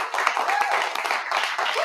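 Audience clapping and cheering at a Disney Lorcana card game watch party, a dense steady burst of many hands with whoops mixed in, filling the short moment.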